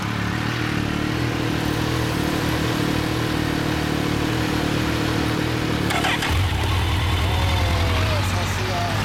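A 2011 Kawasaki Ninja 1000 motorcycle engine runs steadily nearby with a low idling rumble, then its pitch and throttle shift toward the end.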